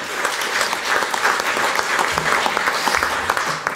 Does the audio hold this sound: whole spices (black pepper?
no